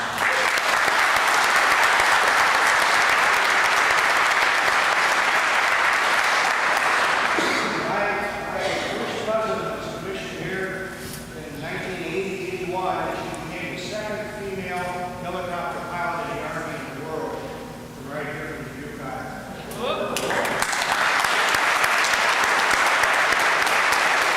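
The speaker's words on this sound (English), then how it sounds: "I give them a big round of applause." Audience applause at a university ROTC commissioning ceremony, loud sustained clapping that fades as someone speaks briefly over a quieter stretch, then swells back to full, dense applause.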